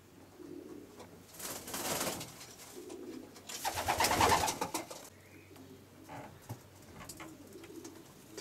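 Racing pigeons in a loft coo in low, throaty bursts. Several rounds rise and fall over a few seconds, with some rustling and a faint sound of wings, and no one speaks.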